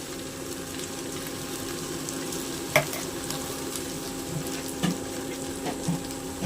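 A ground paste of coriander, fennel and cumin fries in a pan for a buttermilk curry, giving a continuous soft sizzle broken by a few sharp stirring clinks and pops.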